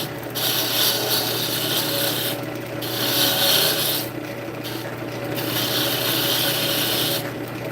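A wooden hammer handle is shaped by hand on a spinning lathe, giving a steady, close rasping and scraping of tool on wood. The sound comes in long strokes broken by short pauses, with a constant hum beneath.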